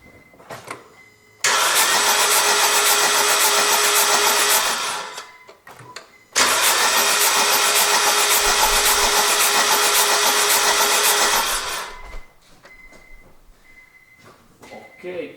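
A car engine being tested for a suspected bad ignition coil roars loudly and close in two long, steady bursts of several seconds each, separated by a brief drop, with quieter background sound before and after.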